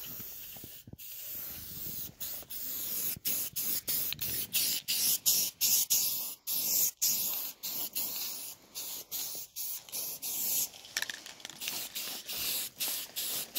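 A coat of finish sprayed onto a wheelbarrow outdoors, heard as repeated close hissing bursts of aerosol spray broken by brief pauses, with no talking.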